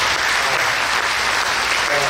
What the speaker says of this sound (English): They say if you get applause, just stop.